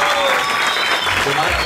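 A group claps for someone's birthday, a steady wash of applause heard close by with some voices mixed in.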